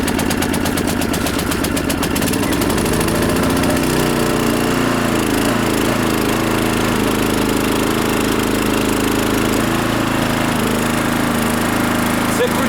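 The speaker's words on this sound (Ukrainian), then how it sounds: "Цей генератор завівся за першим разом." A GTM DK3500i inverter petrol generator is yanked with its pull cord, catches at once and settles into a loud, steady running drone close by.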